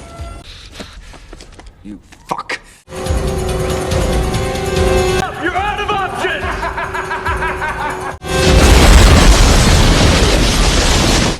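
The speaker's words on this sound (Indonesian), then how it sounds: "si Pen pun meledakkan dirinya sendiri" In the 1994 action film Speed, the bomber blows himself up, and a loud, roaring blast fills the final seconds after a stretch of film soundtrack with music and dialogue.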